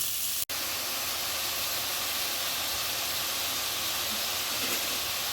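Onions frying in a pan of hot oil after mustard seeds have popped, cooking for a spicy pepper chicken; a steady, even hiss and sizzle holds throughout, with one sharp brief dropout near the start.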